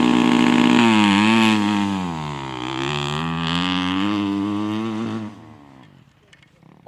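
A motocross dirt bike revs hard and loud at the start of a practice run, the engine note climbing and holding steady for several seconds, then fading off into the distance.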